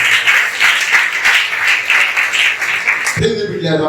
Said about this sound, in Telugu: నమ్మిన వారు చప్పట్లు కొట్టి ప్రభువుని మహిమపరుస్తారు.